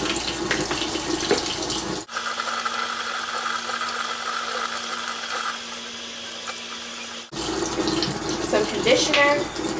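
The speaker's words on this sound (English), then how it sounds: "so now I'm just gonna rinse the closure" Tap water runs steadily into a sink while a lace hair closure is rinsed with shampoo, the flow breaking briefly before restarting, close and continuous with handling noise around it.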